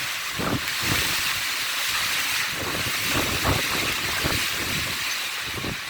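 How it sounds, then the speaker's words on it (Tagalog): Strong wind in the Parañaque area, Philippines, roars and buffets steadily against the microphone, a loud continuous rush with gusty low thumps, no voices. "Grabe lakas ng hangin, guys"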